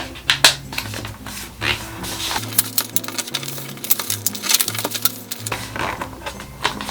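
Paper is creased and folded by hand for an origami advent calendar, close crisp rustles and sharp crinkling snaps recurring in quick bursts over soft background music.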